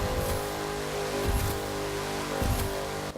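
Ford Mustang engine in The Crew 2 droning steadily at a constant pitch, with a few brief surges of revving, no talk over it.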